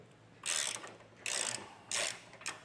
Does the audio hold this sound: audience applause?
no